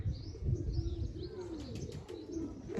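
Pigeons coo softly in a loft, low rolling coos repeating under a few faint high chirps and light fluttering, close and steady with no talk.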